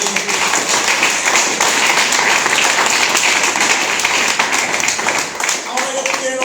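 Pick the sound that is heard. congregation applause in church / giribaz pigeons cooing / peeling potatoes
congregation applause in church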